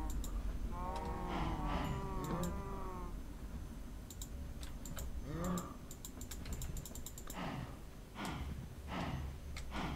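Cows in Minecraft moo repeatedly, several drawn-out lowing calls spread across the stretch, fairly close and moderately loud over a soft game backdrop with scattered clicks.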